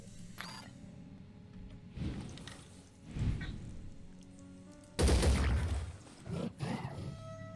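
Gunfire in the turn-based video game Phoenix Point comes as a few bursts of shots over quiet game ambience, the loudest volley near the end, no talk over it.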